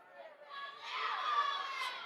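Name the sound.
crowd filing into basketball game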